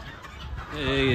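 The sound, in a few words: native chickens clucking at a poultry market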